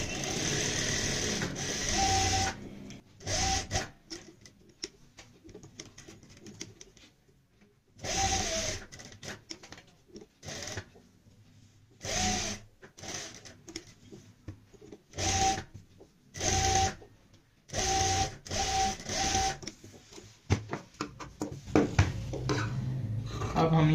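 Sewing machine stitching along the neckline of a halter neck garment, running in repeated short bursts separated by pauses, fairly close and clear with no talking.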